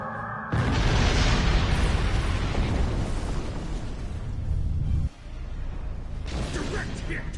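A sudden loud blast of a starship weapon hit in Star Trek Online erupts into a sustained rumbling roar, followed by a second burst, with a voice briefly heard around it.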